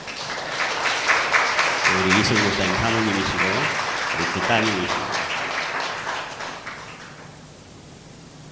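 A church congregation claps to welcome visiting guests during a Sunday service at a Korean church in Ho Chi Minh City. The applause is steady and sustained for several seconds while someone speaks over it, then it fades out.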